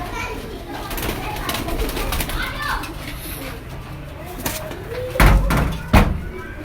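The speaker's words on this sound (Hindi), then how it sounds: "मैं दिखाता हूँ आपको इन कबूतरों को" Pigeons of a fancy breed coo inside a loft, under background chatter, with a couple of loud thumps near the end.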